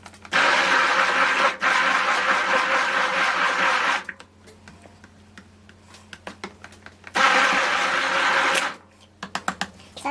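An electric blender mixes soap batter made from soap shavings, whirring loudly in two long bursts separated by a quieter stretch of small clicks and handling knocks.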